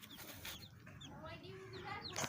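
A rooster clucks up close in a backyard flock, with several sharp rising chirps and throaty clucks, and people talk over it.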